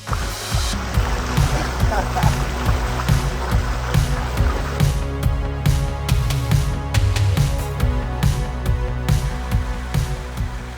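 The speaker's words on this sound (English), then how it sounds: "you're traveling through the creek, and it is so much fun" A loaded bikepacking bike splashes through creek water on the Kane Creek–Pritchett Canyon loop, with rhythmic sloshing and rolling bumps close by and steady wind-like noise throughout.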